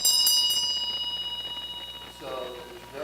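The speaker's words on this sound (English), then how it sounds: "it's just a gong" A meditation timer app rings a gong-like bell once, a bright struck tone that rings out and slowly decays with a pulsing shimmer, while a voice talks underneath.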